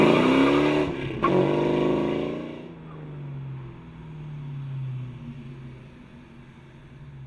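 A 1998 Ford Mustang GT accelerates hard in a 0 to 60 run, the engine climbing through revs, pausing briefly for a gear change, then pulling on at a lower, steadier drone heard from inside the car.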